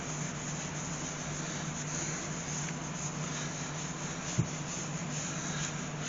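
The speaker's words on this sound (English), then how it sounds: "now it's just starting to take shape now, and I can just go in and start sanding it" Sandpaper rubs steadily against a wood-turned honey pot spinning on a lathe, a continuous even hiss with a constant motor hum beneath and one brief knock near the end.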